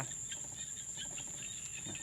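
Frogs call faintly in the evening along a roadside, making a steady chorus of soft, repeated chirping pulses over a constant thin high hum.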